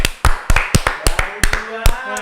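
Podcast hosts clap their hands in a studio, a quick run of sharp, fairly evenly spaced claps, loud and close, with voices murmuring underneath.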